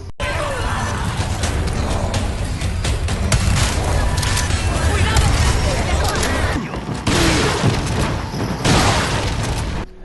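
A shotgun fires in the Resident Evil 4 remake, with heavy booming blasts and crashing impacts layered over game sound and a talking voice, with a brief drop in the middle.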